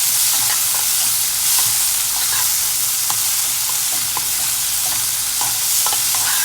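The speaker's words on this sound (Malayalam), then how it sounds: "ബ്ലാക്ക് പെപ്പർ പൗഡർ നന്നായിട്ട് സോട്ടേജ് ചെയ്യാം" Chicken roast being sautéed with black pepper powder in a pan, a steady close sizzle with repeated scraping stirs throughout, no talking.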